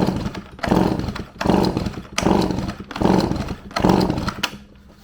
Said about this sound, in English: I'm gonna go ahead and check the compression now.